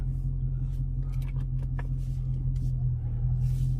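A Dodge Challenger Hellcat driving at night produces a steady, loud low engine rumble and road drone throughout, with faint ticking and rattling above it.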